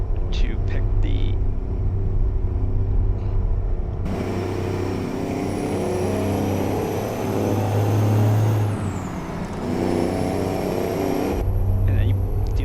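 Loud, steady truck engine rumble from a modded truck-driving video game, with a hiss partway through and a high whine drifting in and out.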